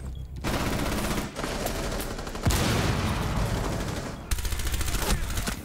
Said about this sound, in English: That's bullets.